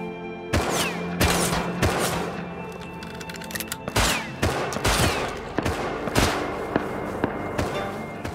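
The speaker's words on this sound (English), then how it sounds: "Drop me that semi, Ben, so I can shoot back." Rapid gunfire in the survival video game Rust, with repeated sharp shots and short bursts that crack loudly and steadily throughout, some reports nearer and louder than others, with no talk over it.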